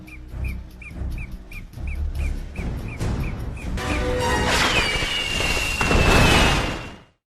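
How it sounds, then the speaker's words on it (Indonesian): Large fireworks exploding in a 2012 horror film scene: a rapid series of sharp crackling pops gives way to a dense, roaring barrage of bursts with a whistling streak, building loud and sustained before cutting off abruptly. "Setelah kembang apinya meledak"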